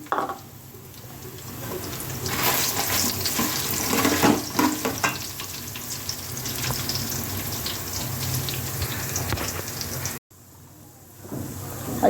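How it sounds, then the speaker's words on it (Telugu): Coriander and fenugreek seeds roast in a pan with a dense, crackling hiss and scraping stirs, continuous until a brief dropout near the end, after which the sizzle resumes more faintly. "ఒక మూడు స్పూన్లు ధనియాలు వేస్తున్నాం ఒక స్పూను మెంతులు వేస్తున్నామండి"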